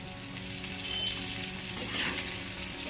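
Surmai fish frying in a small amount of oil in a pan gives a steady, close, bright sizzle with no pauses and no talking.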